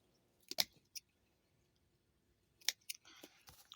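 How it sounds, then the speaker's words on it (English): Caladium stems being cut with scissors or pruners while digging up bulbs to store for winter: a few sharp, faint snips, with a pair of them early and a quick cluster of clicks later, in a quiet setting. "And I will take them and I will cut right here."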